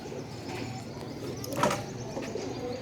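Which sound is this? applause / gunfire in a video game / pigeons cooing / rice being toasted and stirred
pigeons cooing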